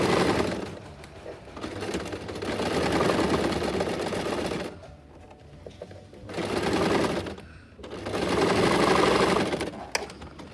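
An electric sewing machine stitches a two-pleat fabric face mask in three separate runs, with short quiet pauses between bursts of rapid mechanical whirring.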